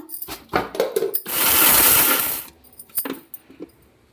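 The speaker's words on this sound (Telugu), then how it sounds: "మనం ఎండేసుకున్న పసుపు కొమ్ములు ఇప్పుడు మనం మిక్సీ జార్లో వేసుకుందాం" Dried turmeric roots are dropped into a mixer jar as a series of hard, rattling clinks and clatters. A brief, loud rushing burst sounds in the middle, then a few scattered knocks follow, close by and with no speech.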